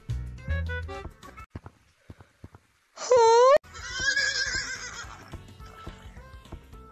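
A player in Gorilla Tag VR imitates a horse neigh with their voice, a loud, shrill whinny that rises and wobbles for about half a second, then trails into a rough, fluttering snort, with short spoken bursts before it.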